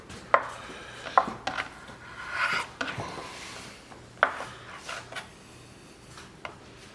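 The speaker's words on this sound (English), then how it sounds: "So you cut it a couple times down there, and then maybe once down the center." A knife cuts through a sticky block of queso cheese on a board in a kitchen, giving several sharp, separate chopping knocks with quiet scraping between them, close and clear with no talk.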